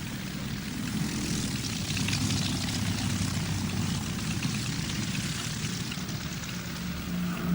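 A Junkers 52 aircraft droning steadily on its propeller engines, a loud, continuous broadband roar with no pauses.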